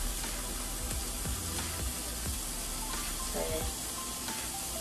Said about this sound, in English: and then you're gonna lay your bacon in